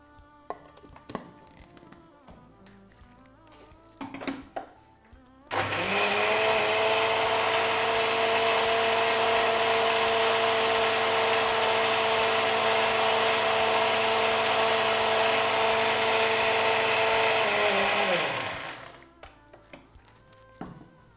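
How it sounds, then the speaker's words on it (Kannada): A kitchen blender whirs through an almond milkshake with milk, starting abruptly after a few small clatters, running as a loud steady motor roar for about twelve seconds, then spinning down to quiet. "ಇವಾಗ ಲಾಸ್ಟಲ್ಲಿ ಹಾಲು ಹಾಕ್ಕೊಂಡು ಇನ್ನೊಂದ್ಸರಿ ಸರಿ ಬ್ಲೆಂಡ್ ಮಾಡಿ"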